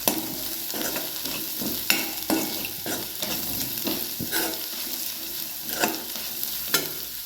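Chopped onions and peanuts are stirred and sautéed in a hot pan for leftover-rice khichdi, with a steady close sizzle and repeated scraping stirs throughout.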